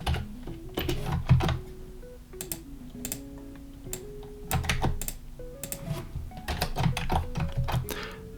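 Keys clatter on a computer keyboard as Flutter code is typed, quick irregular bursts of clicks with brief pauses between words, close and clear over a quiet background hum.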